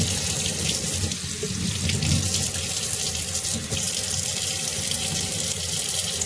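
Water runs steadily from a tap into a sink, a continuous close splashing hiss that holds even for the whole stretch, with no voices over it.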